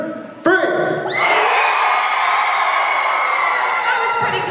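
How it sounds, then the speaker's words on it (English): A cosplay contest crowd erupts on cue into loud, sustained cheering, whooping and yelling that swells suddenly and holds at full volume for several seconds, filling the hall. "I want you to cheer as loud as you can on the count of 3."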